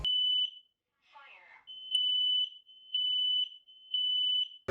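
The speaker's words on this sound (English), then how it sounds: "my fire alarms continuing to go off because the water somehow got into the wiring" A home fire alarm, malfunctioning after water got into its wiring, sounds repeated loud piercing high beeps in a steady rhythm, briefly interrupted by a short burst of other sound.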